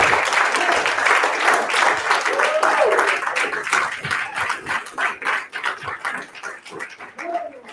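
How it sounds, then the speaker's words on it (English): Crowd applause at a horror convention live event, loud and dense at first, then thinning into scattered claps and cheers with voices heard through it. "can I get a round of applause for the absolute bravery that it took these people?"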